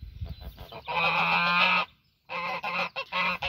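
Geese honking loudly and close, a nasal call followed after a brief pause by a rapid run of several shorter honks, with a few softer calls at the start.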